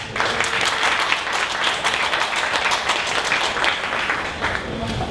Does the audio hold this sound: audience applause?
yes